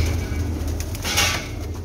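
Sialkoti Teddy cross breed pigeons coo softly over a constant low background hum, with a short throaty cooing swell near the middle, heard close and alone without speech.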